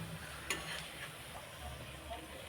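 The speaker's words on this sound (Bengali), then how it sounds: "ভাজা চলছে, দেখুন লাল লাল হয়ে গেছে" Potato and cabbage pakoras in gram-flour batter fry in hot oil with a soft, steady sizzle, broken by a few light clinks and stirring taps, fairly quiet and close.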